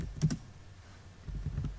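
A computer keyboard being typed on while entering AutoCAD Civil3D commands: a few quick, soft keystrokes near the start, then a faint clatter toward the end, quiet and close.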